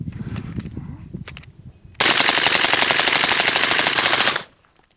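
Rifle with standard carbine spring and buffer and a KAK dead blow carrier emptying a magazine in one very fast, loud, unbroken burst of rapid shots, preceded by quieter handling noises and ending abruptly.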